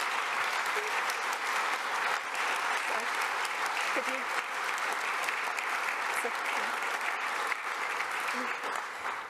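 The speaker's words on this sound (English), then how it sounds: "please now join me uh, in a round of applause for our panel" Sustained applause from a panel debate audience at the Munich Security Conference 2022 fills the room, steady and even throughout with no break.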